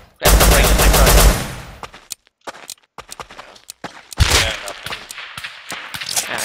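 Video game gunfire: a loud sustained burst of automatic fire, then scattered sharp single shots and another heavy burst, with a voice briefly heard.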